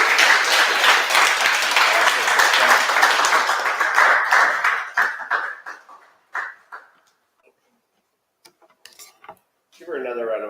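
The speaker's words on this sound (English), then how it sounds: "Give her another round of applause." A crowd at the CityJS HalfStack Belgrade 2023 conference applauds a speaker, a dense wash of clapping that tapers into a few scattered claps, then near silence before a voice begins talking at the end.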